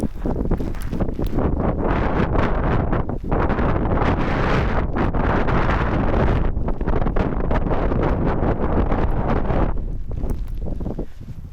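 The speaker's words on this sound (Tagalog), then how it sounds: "Basta hangin." Strong wind roars steadily and buffets the microphone throughout, a constant rushing blast with no voices.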